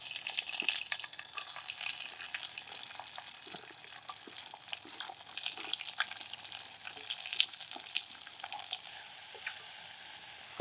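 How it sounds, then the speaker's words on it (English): Garlic and onion fry in a pan at a camp cooking spot by Loch Ness, giving a steady, dense sizzle with crackles and scattered clinks throughout, with no talking. "इसके बाद हम इसमें डालेंगे garlic, some more garlic and onion."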